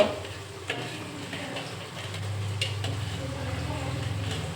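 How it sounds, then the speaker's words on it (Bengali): Green beans (borboti) fry in a pan in a home kitchen. A soft, continuous sizzle runs throughout with occasional stirring clicks and scrapes, and a low hum rises partway through. "এখানে বরবটি ভাজা হচ্ছে"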